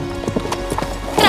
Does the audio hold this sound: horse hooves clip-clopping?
yes